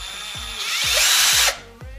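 A cordless screwdriver driving a screw whirs loudly for about a second, rising in pitch, then cuts off, with a few soft knocks around it.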